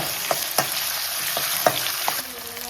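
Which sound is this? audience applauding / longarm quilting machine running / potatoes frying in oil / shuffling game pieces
potatoes frying in oil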